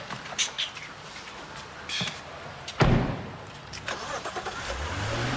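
A car door thuds shut, then the engine cranks and catches, settling into a low idle that rises toward the end, with light background sounds around it.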